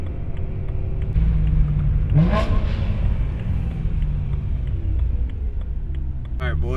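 A BMW E92 M3 V8 rumbles at a car meet near Levi's Stadium, a deep steady engine drone with a brief rising rev in the middle, heard from inside a car with a speaking voice over it.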